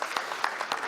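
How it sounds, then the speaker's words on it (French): Short burst of audience applause at an insurance finance panel conference, steady and moderate with a few sharper claps, at a distance in a large hall. "On l'applaudit."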